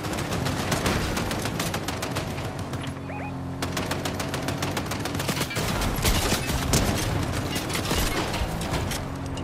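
Gunfire in the battle royale game Fortnite, rapid continuous bursts of automatic shots crackling loudly and close for nearly ten seconds, with a brief lull partway through before the shooting resumes.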